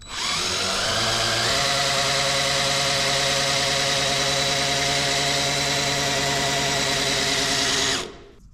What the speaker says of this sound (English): That's my small block Chevy converted oil pump